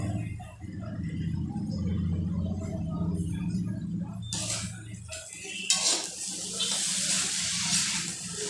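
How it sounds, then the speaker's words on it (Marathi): Sabudana khichdi is stirred in a pan, giving scraping and clinking sounds against a running-water-like wash; the sound turns brighter and more hissing partway through. "पुन्हा एकदा त्याला हलवून घेऊया."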